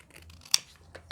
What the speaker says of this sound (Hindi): ये हमने कटिंग कर ली